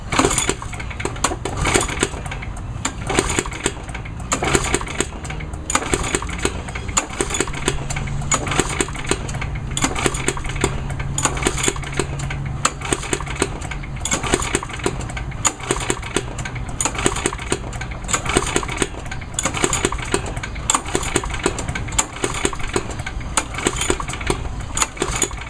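A lawnmower engine on choke is pull-started over and over, each rapid ratcheting tug of the recoil cord followed by sputtering, with no steady running; close and loud throughout.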